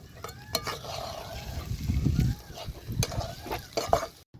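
Oil poured over spice-stuffed eggs crackles and sizzles in a pan, with soft stirring and scraping. The frying is close and moderately loud, with a brief clatter near the end.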